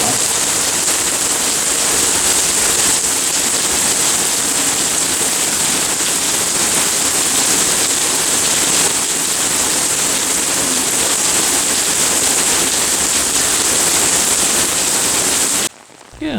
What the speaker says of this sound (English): I hope you enjoyed the sound of the rain there at Roanoke